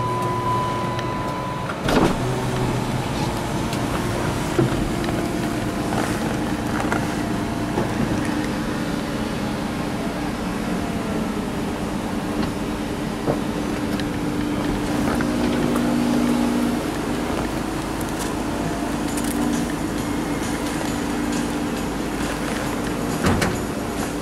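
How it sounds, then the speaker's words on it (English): A car starts and its convertible roof opens, with a long steady electric motor whine and mechanical hum running throughout, close and continuous, broken by occasional clicks and small knocks as the roof mechanism moves. "Let me go ahead and start the car and open the roof"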